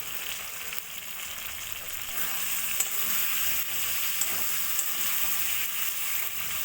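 Masala sizzling in a pan with a spoonful of sugar for a paneer and potato curry, a dense continuous frying hiss with faint stirring ticks throughout, no speech.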